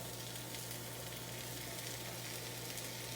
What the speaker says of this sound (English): I'm just going to put the onions and peppers right in with everything.